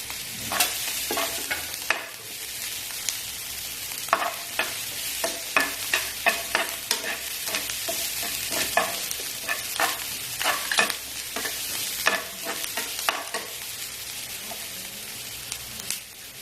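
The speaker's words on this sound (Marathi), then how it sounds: "मूग डाळ परतून घेते" Moong dal sautéing in a pan with asafoetida, a steady sizzle broken by frequent sharp scraping and stirring clicks, close and continuous with no talk.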